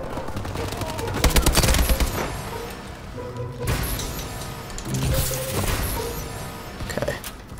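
Bursts of AK-47 automatic gunfire in the shooter game Call of Duty: Advanced Warfare, several rapid volleys of loud, close shots separated by brief pauses, over game background noise.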